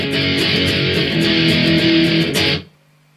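An electric guitar plays chorus C of a song as loud, distorted strums with rhythmic choked accents, ending abruptly as the strings are muted and a faint hum lingers.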